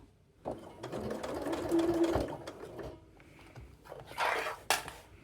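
Sewing machine stitching bias binding onto fabric, running in short bursts of rapid close needle clatter with brief pauses between them.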